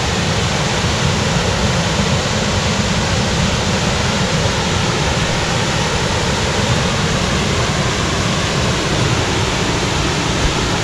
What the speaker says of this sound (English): It's not necessarily the highest falling waterfall, but it's called High Falls because it's at the uh, highest point in elevation in the county.